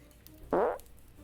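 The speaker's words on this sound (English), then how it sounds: "Oh, fart." A short, loud fart sound, a single raspy burst lasting about a quarter second against a quiet background.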